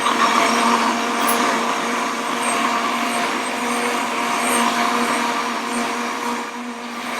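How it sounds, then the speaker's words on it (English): Blender whirring at high speed as it blends hazelnuts for nut milk, a loud continuous motor drone with a steady pitch and a faint whine on top, running without interruption. "we're just going to blend this for about 90 seconds until it's nice and combined"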